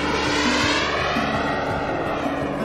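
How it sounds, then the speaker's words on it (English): A large, detailed, fast radio-controlled model jet aircraft at the 2020 Jet Jam gathering gives off a loud, steady turbine roar and whine that fills the whole moment with no break and no talking. "these things are big, they're detailed, they're fast, they're noisy"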